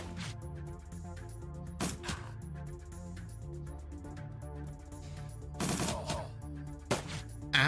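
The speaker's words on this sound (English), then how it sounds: "you can shoot at that dude" Gunfire in the video game Shadowrun Dragonfall, a few sharp bursts of shots cutting through a steady, tonal game music bed, with no talk.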